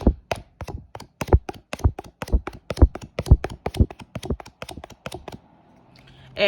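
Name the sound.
tapping on a deck of cards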